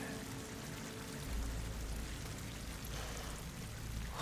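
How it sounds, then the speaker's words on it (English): Water rushes into an enclosed chamber with slick walls in Horizon Forbidden West, a steady, broad pouring wash that swells louder after a second and continues with no talk. "Water's coming in."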